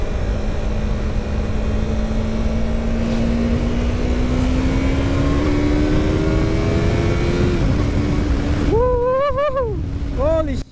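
A Yamaha YZF-R3 sport motorcycle pulls hard, its engine note climbing steadily under heavy wind rush, then blips and rises sharply through quick revs near the end.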